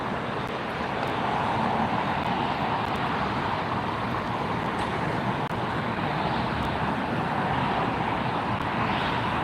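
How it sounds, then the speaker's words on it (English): Qatar Airways widebody airliner taxiing at LAX, a steady broadband engine rumble and hiss that holds evenly throughout with no voices. "We have the Qatar Airways taxiing up now"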